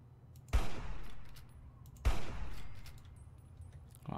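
Two loud gunshots ring out in Fallout 3, about a second and a half apart, each a sharp crack that trails into a long decaying echo, with no talking over them.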